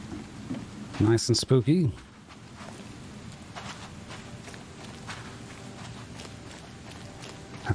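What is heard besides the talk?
rain in video game The Sinking City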